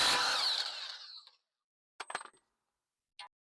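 Power tool with a 36 socket spinning a castle nut on the front axle of a 1980s Jeep, a loud whirring burst that winds down over a second, followed by two short metallic clinks.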